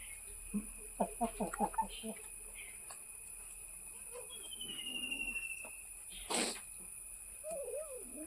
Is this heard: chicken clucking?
yes